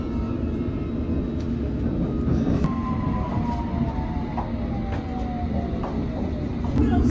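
Inside a moving train while exploring Notting Hill in London, a steady low rumble of the carriage runs throughout, with faint squealing wheel tones and light rattles, and no talking.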